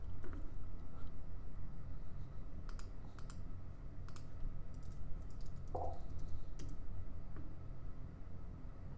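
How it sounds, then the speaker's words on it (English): Someone types on a computer keyboard, producing scattered, uneven clicks and key taps at close range over a steady low background hum, with no talking. "So I'm typing in CRYP"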